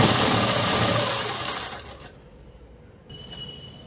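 A sewing machine stitches along the hem of a garment with a fast, loud whirring run up close, then stops midway, leaving a quieter room with faint tones and light handling.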